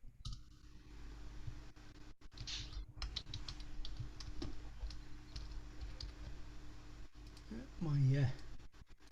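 Rapid, irregular clicks from fingers typing on a computer keyboard at a table, close and fairly quiet, with a person talking briefly near the end.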